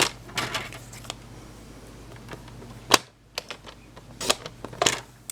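A paper cutter trims the edge of a sheet of craft paper, making a quick run of sharp clicks and snaps in uneven bursts separated by short quiet gaps, close and crisp.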